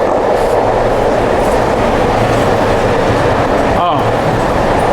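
A Dubai metro train rides fast with a loud, constant rumble and roar of wheels on rails, a brief squeal near the end, and someone talking over the noise.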